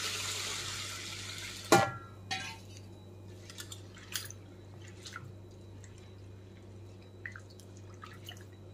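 Sago pearls being washed and drained with clean water produce a sharp splash followed by scattered drips and small trickles over a quiet low hum.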